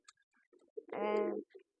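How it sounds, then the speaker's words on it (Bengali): A domestic street pigeon gives a single short, quiet coo close by, surrounded by a few faint soft clicks and rustles in an otherwise still setting. "এই কবুতরটা দেশি কবুতর আপনারা দেখুন দেশি কবুতর এটা রাস্তায় থাকে"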